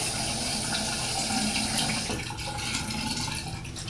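Water trickles from a tap onto a shaving brush as lather is worked up before a shave with a GEM 1912 safety razor, a steady close, running splash with no talking.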